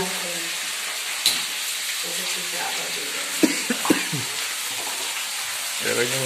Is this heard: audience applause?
no